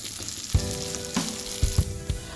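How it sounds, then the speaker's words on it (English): Cashew nuts frying in melted ghee or butter in a kadai, a steady close sizzle with a few sharp clinks and stirring scrapes from a spoon against the metal. "add some ghee or butter, and I'm going to fry these cashew nuts"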